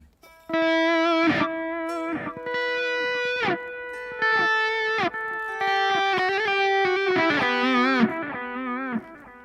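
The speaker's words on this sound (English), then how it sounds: "you switch off the noise gate and you switch on the effects like the delay and the reverb" Electric lead guitar through a Hotone Ampero multi-effects unit, playing a melodic line of sustained, slightly overdriven notes with bends, trailing delay repeats and reverb, loud and close with no talking.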